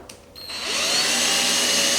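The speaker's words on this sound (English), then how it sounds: "we've got to drill our 3/16 hole here on every one of these" A power drill bores a 3/16 hole through the first layer of a C8 Corvette E-Ray or Z06 front canard, spinning up after a brief quiet start into a steady, loud high-pitched whine that runs to the end.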